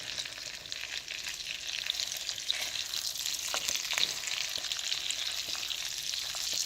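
Chicken sizzles and spatters steadily in a pan with little oil, a continuous close frying hiss with occasional small pops, no voices.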